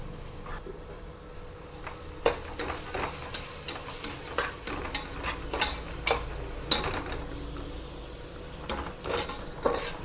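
Masala of chilli powder and garam masala frying in oil with tomato and onion for tomato bath, a steady soft sizzle under repeated sharp clicks and scrapes of a spoon stirring the pan, close and with no talking.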